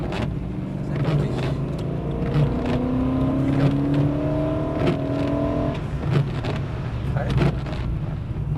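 A BMW M3 E92 accelerates on a track, its engine tone rising steadily in pitch through a revving pull over constant cabin rumble, while a driving instructor talks throughout.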